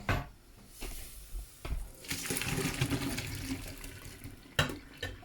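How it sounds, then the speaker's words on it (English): Water pours and splashes as boiled potatoes are drained from a pan for gnocchi, a broad rushing gush lasting a few seconds with a couple of sharp clanks from the pan, no talking. "Now we're gonna drain the potatoes."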